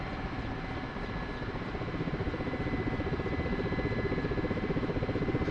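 An Mi-8 helicopter taxiing straight along a runway during training, its rotor and turbine engines producing a steady, loud, close drone with a rhythmic rotor chop that grows slightly stronger midway.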